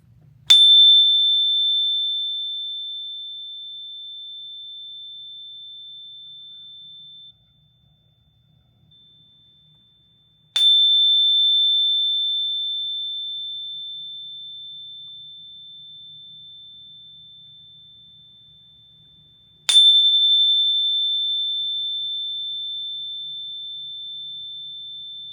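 Venus tone for the heart chakra, a pure sine tone struck three times at roughly ten-second intervals, each ringing clearly and slowly fading, alone with no voices.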